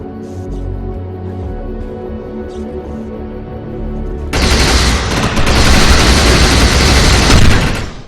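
Gunfire in the video game Defiance shooting at a decoy projection: a quieter stretch of game ambience, then a sudden loud burst of continuous rapid fire and booming impacts that runs for several seconds.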